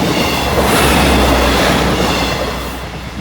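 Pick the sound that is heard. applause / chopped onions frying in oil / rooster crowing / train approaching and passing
train approaching and passing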